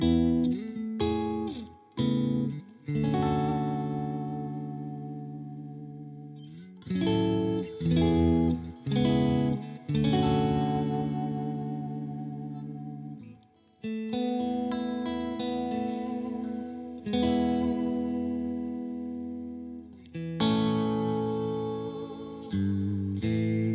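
Electric guitar chords strummed through a Marshall Studio JCM900 amp with heavy reverb, ringing chords with lush tails and short pauses between strums, clear and close.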